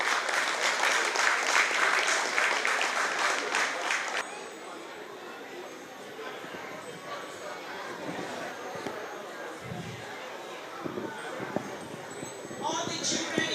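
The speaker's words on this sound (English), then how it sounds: "Can we please clap for them," A crowd in a school hall claps for teachers, loud and dense for about four seconds, then the applause cuts off and gives way to quieter murmuring chatter and scattered voices echoing around the room.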